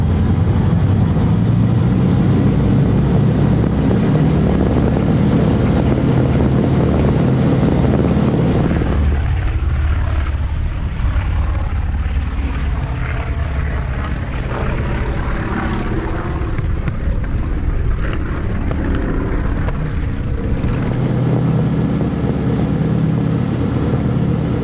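A vintage 1930s Lufthansa passenger plane in period livery roars past at the Flying Legends 2006 airshow, its propeller engines a loud, sustained drone that dips and then returns, with no voices.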